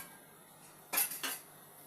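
An onion is cut into pieces for chicken kabsa: two quick, close knife chops against a board, clear and sharp in an otherwise quiet room.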